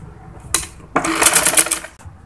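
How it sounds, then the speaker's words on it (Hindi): A sewing machine stitches the neckline of a kameez: one short burst of needle clatter, a brief pause, then a longer rapid run of stitching up close, over a quiet background. "अब सिंपली इसको इस तरह से फोल्ड करके इस तरह से देखें इस पर फाइनल सिलाई लगा लेते हैं"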